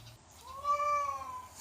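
A single drawn-out meow from a house cat, fairly faint and heard alone in a quiet room.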